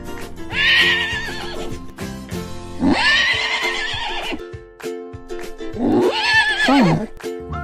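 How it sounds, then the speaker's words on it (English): A horse neighs three times in long, shrill whinnies, each call rising and trailing off, set against upbeat cartoon background music. "Horse"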